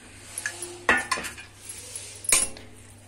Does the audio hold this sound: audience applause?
no